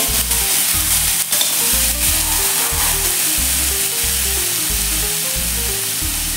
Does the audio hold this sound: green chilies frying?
yes